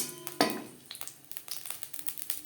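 Two broken dry red chillies crackle and sizzle in hot oil during tempering, a burst of spitting near the start followed by quieter, irregular pops and small clinks.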